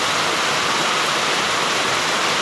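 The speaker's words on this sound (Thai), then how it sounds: "ตกแรงด้วย" Dense, steady roar of heavy rain pouring down continuously in front of a house near the entrance to Pranburi Dam, Prachuap Khiri Khan, Thailand, loud and close, with no voices.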